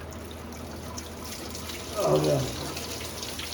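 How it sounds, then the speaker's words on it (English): Coolant gushes from a loosened radiator cap on a Nissan D21 pickup during a thermostat job, a brief splashing pour swelling midway under steady background noise while a man exclaims. "once I open the radiator cap, more should just start pouring out"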